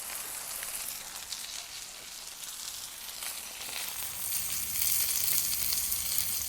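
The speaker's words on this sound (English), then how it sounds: "I'm going to toast the ciabatta bread just for a few seconds per side" Ciabatta bread toasting on a Blackstone griddle over medium-high heat gives a steady, close sizzle that swells louder toward the end, with no voices.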